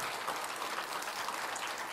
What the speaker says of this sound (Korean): 오신 예수님께 영광의 박수 올려드립니다